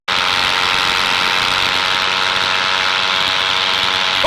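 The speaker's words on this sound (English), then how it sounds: "Oh yeah, the good old monster engine, running well." Paramotor engine running at full power in flight, a loud, steady droning buzz with a constant pitch that holds unbroken for the whole clip.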